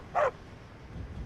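A single short dog bark from the Skyrim video game, one clear sharp bark near the start, followed by quiet game ambience.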